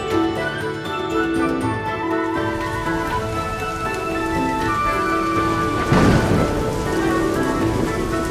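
Steady heavy rain drums on a tin roof that is leaking, with a low rumble of thunder rolling in near the end, loud and continuous with no voices.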